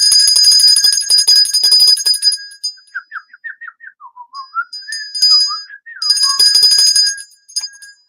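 Bright, rapid ringing of a small hand bell starts and stops, interrupted by a rising and falling melodic whistle, then the loud jangling bell returns near the end.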